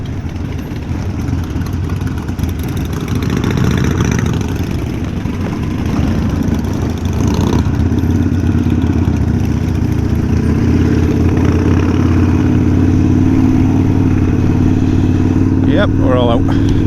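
A group of Harley Davidson Sportster motorcycles on a group ride out of fourteen bikes, engines rumbling loud and constant at close range with a rough mechanical clatter, and wind noise over them.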